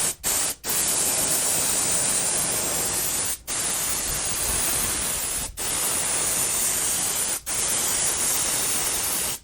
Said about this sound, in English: I find it sprays a little better with the critter if it's thin.